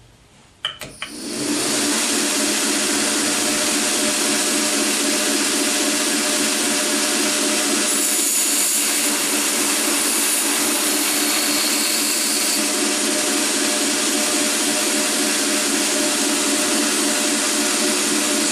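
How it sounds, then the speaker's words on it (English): A belt grinder spins up and rough hollow grinds one side of a knife blade, a loud continuous abrasive hiss and whine held steady for many seconds with slight shifts in pressure, no talk. "So we're going to completely grind out one side, and then we're going to flip over and do the other."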